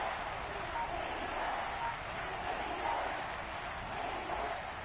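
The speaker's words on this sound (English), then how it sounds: "The crowd getting into it as we come up on a big 3rd down." Football stadium crowd roaring steadily ahead of a big third down, a dense continuous wash of cheering and noise at even loudness throughout.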